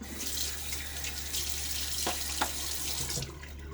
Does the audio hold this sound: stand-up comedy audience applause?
no